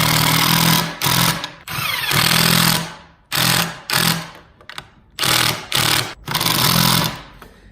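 A power drill drives screws into a kitchen island cabinet face frame, several loud bursts of whirring drive separated by short pauses, close and alone without talk.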